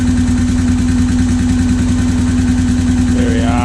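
A Honda 650 motorcycle engine idles close by, a loud, steady, evenly pulsing low rumble with a rapid regular firing rhythm that never changes speed.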